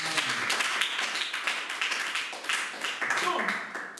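A church congregation claps in steady rhythmic acclamation for about four seconds, with voices mixed in beneath the clapping.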